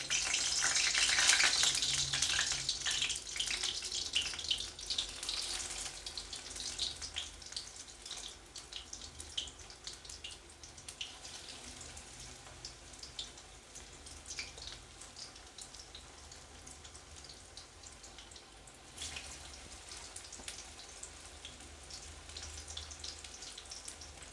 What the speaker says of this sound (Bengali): তেলটা গরম হয়ে গেছে, আমরা এরকমভাবে থোড়গুলো একটা একটা করে কড়ার মধ্যে দিতে থাকবো